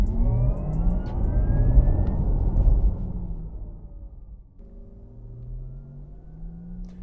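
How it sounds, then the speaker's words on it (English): A Porsche Taycan Cross Turismo 4S plays its artificial electric drive sound: a synthetic, rising whine with a low hum under it, steady road rumble, dropping briefly, then a smoother drawn-out tone. "We'll just switch to the GoPro audio so you can listen to the artificially generated noise."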